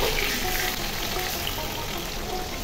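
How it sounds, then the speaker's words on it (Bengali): Hilsa fish frying in mustard oil, a steady, dense sizzle that holds evenly and loud throughout, with no voices over it. "আর এই যে হচ্ছে ইলিশ মাছ ভাজা।"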